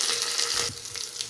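Onions, curry leaves and green chilies frying in a pan give a steady, close sizzle with a crackling hiss that eases off slightly partway through, with no talking.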